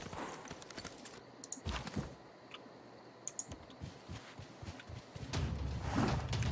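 Horse hooves clip-clopping in the Civilization 6 video game, scattered quick clicking taps at low volume amid game ambience, rising to a fuller burst of sound near the end.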